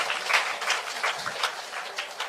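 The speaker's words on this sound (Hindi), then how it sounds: "ऊर्जावान ताली से स्वागत करें" Steady applause from a gathered audience welcoming the Deputy Chief Minister of Bihar onto the stage at a government event, dense and moderately loud with small swells throughout.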